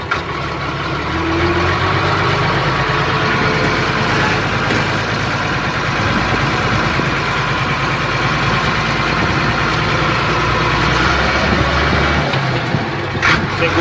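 A Massey Ferguson 630 Hydrotronic tractor engine idles steadily up close, a constant low rumble holding the same level throughout with no voices over it.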